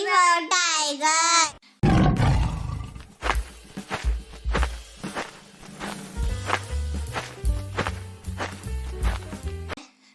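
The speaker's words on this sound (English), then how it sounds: "T for tiger." A tiger roars once, loud and close, in a children's phonics song, followed by a run of bouncy cartoon music and percussive hits.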